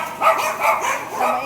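A dog in a shopping mall gives a short run of about three high yips and barks, near and fairly loud, with no talk over them.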